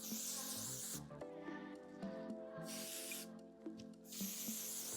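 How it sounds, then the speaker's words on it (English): Several short hissing bursts of hairspray sprayed onto hair sound close by, separated by brief pauses. "I'm gonna be spraying the exact same amount that I sprayed on this side"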